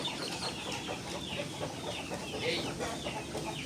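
Dong Tao chickens cluck steadily through breeding on a farm, the calls close and mid-loud over a constant noisy hiss that suggests rain.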